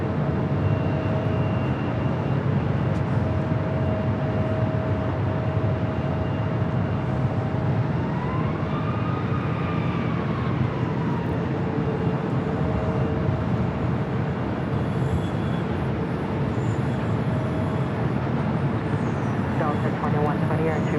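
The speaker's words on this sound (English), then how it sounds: "This is Southwest Airlines 3442 taking off to San Francisco on the 737-700 Florida 1 livery." A Southwest Airlines Boeing 737-700 in Florida One livery takes off at Los Angeles airport, a steady broad jet roar with a rising whine partway through, heard continuously at a distance.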